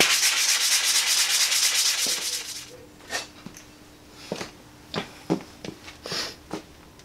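A Flexofold boat propeller is hand-sanded with 120 grit wet and dry paper. Fast, continuous rasping strokes give way to slower, separate scrapes and rubs at close range.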